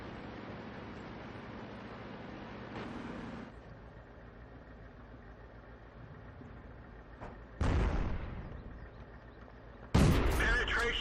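Two heavy tank cannon blasts in World of Tanks boom out over a constant low engine rumble, the second louder and sharper than the first.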